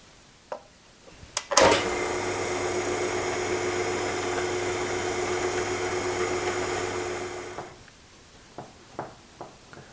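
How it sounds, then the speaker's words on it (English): A drill bores a pilot hole for a screw eye in a Wimshurst machine part, one steady whirring run of about six seconds starting with a sharp bite, with small clicks and taps before and after. "But I gotta drill a pilot hole right there for that screw eye."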